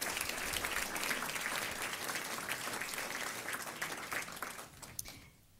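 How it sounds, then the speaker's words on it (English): Audience applause at a school board meeting for Austin High School representatives: dense, sustained clapping from a room full of people that gradually thins and fades out over about five seconds. "Let's give Austin High School a big round of applause"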